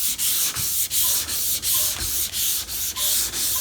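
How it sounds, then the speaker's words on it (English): A hand sanding block scrubs back and forth over primed car bodywork, about ten evenly spaced rasping strokes with brief pauses at each turn, close and alone without talk. "you're just going to take your block. You're going to go straight back and forth, and then you're going to cut it in different directions"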